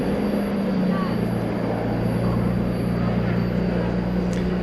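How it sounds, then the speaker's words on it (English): A 34-year-old Boeing 757 airliner going around at DFW Airport at night, heard as a steady, loud, continuous jet roar with a low engine hum and no talk over it. "That is a 34-year-old 757 that went around."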